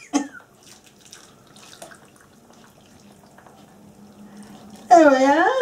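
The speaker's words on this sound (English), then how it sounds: "now I'm going to pour it onto it" Liquid poured into a glass dish for a trifle: after a quiet stretch, a loud close stream starts near the end, its gurgle rising in pitch as the dish fills.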